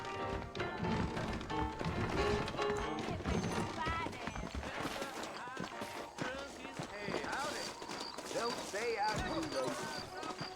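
Saddled horses clip-clop steadily in the Red Dead Redemption game, their hoof beats mixed into a dense, loud bed of music and ambient game sound throughout.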